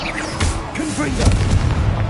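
Confringo blasting curse going off in Hogwarts Legacy on PS5, a loud, booming spell blast with crackling bursts, heard beneath spoken spell incantations.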